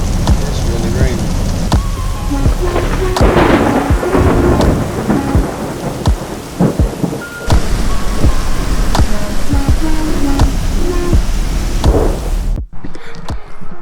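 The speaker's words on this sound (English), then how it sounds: "It's really raining." Heavy rain pours down steadily in a thunderstorm in El Reno, Oklahoma, with repeated loud cracks and rumbles of thunder over the dense roar of the rain. It stops abruptly near the end.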